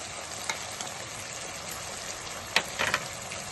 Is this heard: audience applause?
no